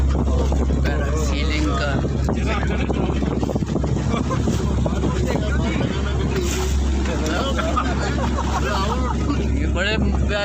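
A motorboat cruises across Khanpur Dam with a steady, loud engine drone and heavy wind buffeting throughout, while people talk over the noise.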